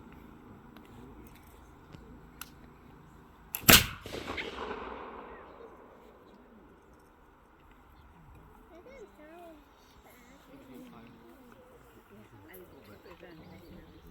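Muzzle-loading cannon fired by a crew at Fort Necessity National Battlefield: one sharp, loud boom that rolls off into a fading rumble, with quiet crowd murmur and talking before and after.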